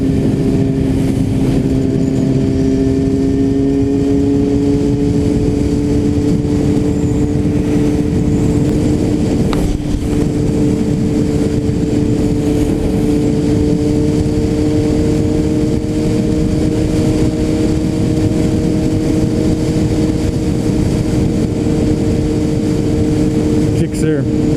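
A Suzuki Gixxer motorcycle is ridden at steady speed, its engine holding a constant droning hum under heavy wind rush throughout, loud and close, with no clear changes in pitch.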